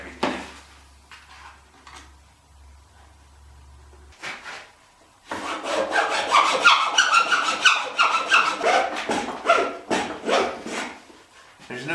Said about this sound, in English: then I'm going to cut the neck with a hacksaw